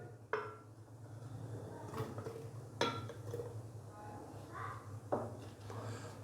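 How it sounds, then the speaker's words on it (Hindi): Fresh strawberries go into a mixer grinder jar for a strawberry drink, heard as a few quiet clinks and knocks against the jar spread out over a soft background hum. "मिक्सी जार के अंदर सबसे पहले हम स्ट्रॉबेरी डालेंगे।"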